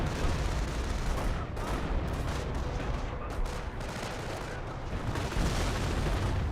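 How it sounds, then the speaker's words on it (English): Panzer IV tank firing during a Company of Heroes battle, a steady wash of gunfire and explosions with several sharper cracks rising from the dense rumble, loud and continuous, a voice faintly under it. "Panzer IV firing away"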